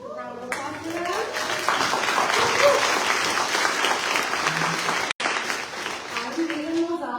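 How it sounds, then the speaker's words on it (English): Audience applause fills an evening honors event for a 30-and-under class, a dense sustained clapping from a crowd for several seconds, with a speaking voice just before and after. "Round of applause for that."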